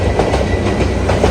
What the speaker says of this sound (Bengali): সো এই যে ট্রেন গেল মাত্র চাঁদপুর, চিটাগং চাঁদপুরের ট্রেন এটা।